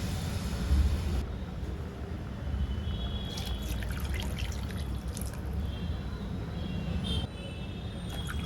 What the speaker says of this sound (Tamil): இப்போ தேவையான அளவு தண்ணி ஊற்றிப்போம்.